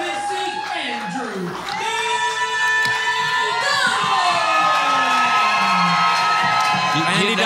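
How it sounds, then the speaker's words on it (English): Loud arena crowd cheering, whooping and shouting for MMA fighter Andy Delgado at a PrideStyle 16 fight night, sustained roaring from a large audience with an announcer's voice over it. "a roaring applause for Andy Delgado here"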